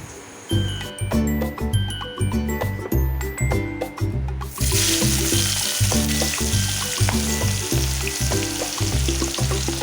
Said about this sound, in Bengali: আমার পেঁয়াজটা লাল করে ভাজা হয়ে গেছে